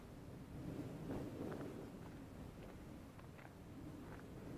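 Wind buffets a Q6 Firefly camera worn as a head cam during a night flight at the dust bowl, making a steady, low, rumbling roar with uneven gusty swells throughout and no voices.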